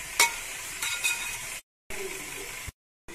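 Finely chopped tomatoes sauté with softened onions in a pan for a Thalassery fish biryani, a soft sizzle broken by a few spoon clinks and short silent gaps.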